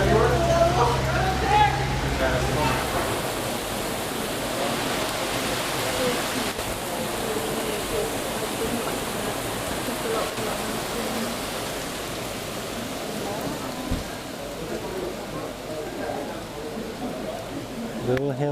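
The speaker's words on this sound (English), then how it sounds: "now it's hailing. It's hitting the clear." Hail pelting a clear surface outdoors in Bruges, a dense, steady hiss of tiny impacts that stays loud and close throughout, with a low rumble early on.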